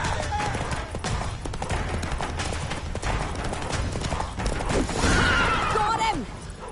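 Roach, Geralt's horse in The Witcher 3, gallops with steady hoof clip-clop under a busy game soundscape, with clatter and effects rising near the end.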